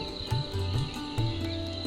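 Cricket-like insects chirp on a hillside around a resort in Kurseong, repeated short pulsing trills over a steady faint background hum, fairly quiet and without talk.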